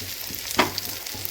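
Small onions frying in a pan for a moringa soup, a short burst of sizzling with one brief stirring scrape, close and fairly quiet.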